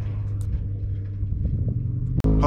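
An off-road desert race car at the VORRA Yerington 300 rumbles by, its engine a steady low drone that holds across the pass before a sudden loud burst of close noise at the end.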